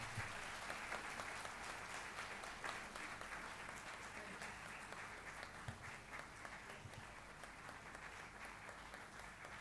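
An audience at a silver jubilee celebration and award ceremony claps steadily for an award recipient, a dense, even round of applause that continues throughout with no let-up.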